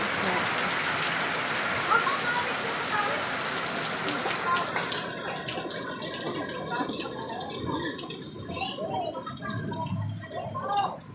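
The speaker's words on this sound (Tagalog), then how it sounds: "Kasi malakas po ang ulan." Heavy tropical rain pours down in a steady roar, drops pattering hard on surfaces nearby, with the downpour easing slightly toward the end as people talk faintly in the background.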